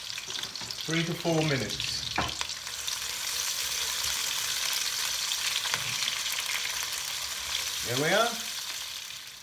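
An onion mixture with half a cinnamon stick fries in a pan for Trinidadian spicy rice and fish, giving a steady close sizzle as it is stirred. Someone speaks briefly near the start and again near the end.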